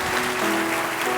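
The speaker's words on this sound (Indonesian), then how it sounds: "Mari kita berikan tepuk tangan sekali lagi." Church congregation applauding after a sermon, a steady wash of clapping from many hands filling the whole short moment, loud and continuous with no talk over it.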